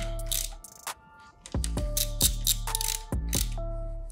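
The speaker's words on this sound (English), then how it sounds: "So now from left to right, I'm gonna tighten the bolts up one by one." A ratchet tightening the fork bolts on a dirt bike, several quick clicking bursts with short pauses between them, close up with no talking.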